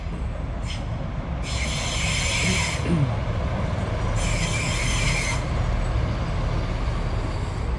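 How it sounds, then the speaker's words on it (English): A loud heritage-railway train on the Nene Valley Railway in Peterborough rumbles past nearby beneath a bridge, with bursts of high metallic wheel squealing over the steady roar. "Oh, train coming in."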